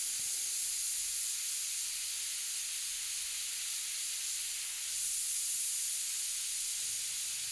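A steady, close airbrush hiss sprays paint continuously while detailing a portrait on a gray automotive sealer panel, holding an even airy tone with a slight swell near the end and no talk.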